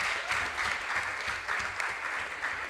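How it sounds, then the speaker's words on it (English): Audience applause at a regional junior science and maths quiz contest, a sustained, fairly loud wash of many hands clapping from a hall crowd. "A round of applause for me."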